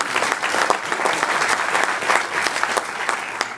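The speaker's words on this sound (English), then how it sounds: "Please give yourselves a hand of applause." A Democratic party meeting audience breaks into steady, dense applause, many hands clapping at once in a moderately loud, continuous roar from start to finish.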